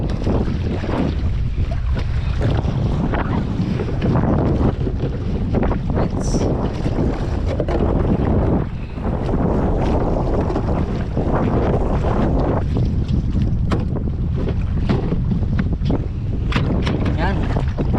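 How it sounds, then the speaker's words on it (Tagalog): Strong wind buffets a fishing boat at sea, a loud, steady roar of gusts across the microphone with a few voices talking over it. "lakas ng hangin."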